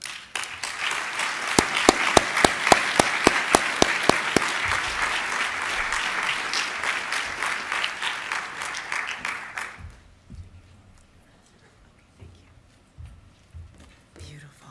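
A large audience gives a sustained burst of applause welcoming speaker Majora Carter, dense and loud with a few sharp nearby claps, then fading out after about ten seconds into near quiet.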